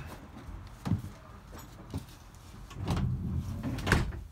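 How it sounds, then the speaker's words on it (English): Manual plug door on an Iveco Daily van being operated, giving a few solid knocks and clunks with a louder thud near the end, heard close up in a quiet interior. "It's got the plug door, it's not electric"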